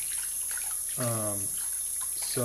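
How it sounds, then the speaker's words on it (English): Water is poured from a tap down into the knot of a shaving brush, a short splashing fill over a constant hiss, with someone speaking briefly around it. "pouring the water directly down into the knot like that"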